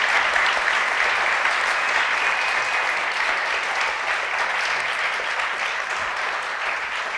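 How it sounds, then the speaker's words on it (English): A seated audience at a game art and VFX panel with Blizzard, Respawn and Ingenuity Studios breaks into steady, sustained applause for the panelists, a full even wash of clapping that carries through without a break and no voices over it. "Can we have another round of applause for our amazing panel?"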